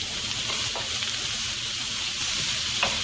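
Squeezed garlic frying in a pan gives a steady, close sizzle while it is stirred, with a few soft scrapes breaking through the hiss.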